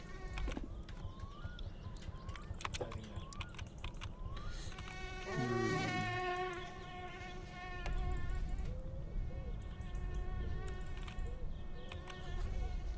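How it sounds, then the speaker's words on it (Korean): Mosquito buzzing in the video game My Summer Car, a thin, whining drone that hangs steadily over the scene, swelling louder as the insect passes close and fading between passes. "저 목이 윙윙대는 거 참 너무 거슬리는데?"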